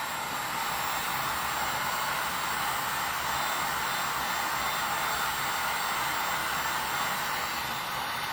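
A hair dryer dries black paint on a skeleton prop, blowing as a loud, constant, close hiss-roar that holds steady the whole time, with no talk.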